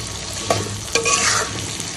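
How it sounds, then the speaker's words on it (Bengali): Vegetables for biryani are stir-fried in a pan, with a sizzle under two sharp scraping stirs of a utensil, close and clear. "সবজিটা হালকা একটু ভাজা দিয়ে নিলে তাহলে হয়"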